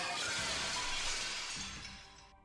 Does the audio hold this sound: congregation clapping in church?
no